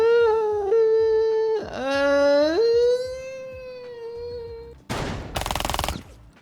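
An SMG-12 submachine gun fires a quick, rapid burst in a video game. The rattling shots come near the end and last about a second, after a long, wavering, meow-like tonal wail.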